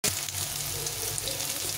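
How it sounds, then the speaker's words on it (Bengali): Eggplant fries in hot white oil in a pan, a loud, steady, close sizzle that holds without a break. "এখন আমি সাদা তেল দিয়ে বেগুনটাকে ভেজে নেব"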